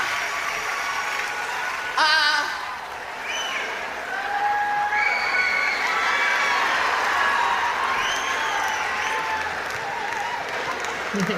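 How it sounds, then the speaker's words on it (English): A stand-up comedy crowd in Washington, DC cheers and applauds, a dense sustained wash of clapping with whoops and shouts, loud and continuous with a sharp burst near the start. "This is the crowd."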